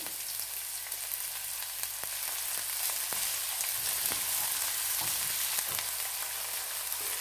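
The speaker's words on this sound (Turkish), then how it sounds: "Soğanlarımızı ve havucumuzu beraber soteleyelim" Steady sizzling of onions and carrots sautéing in a pan, a constant hiss with occasional soft clicks of stirring, close and continuous with no talking.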